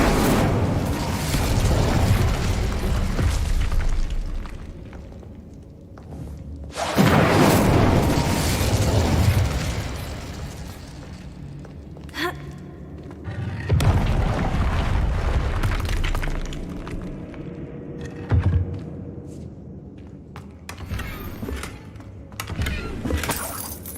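A magical Incendio fire spell from the Hogwarts Legacy video game bursts out in several loud, roaring blasts, each surge of fiery whoosh and crackle fading before the next, with a layer of game sound effects continuing throughout.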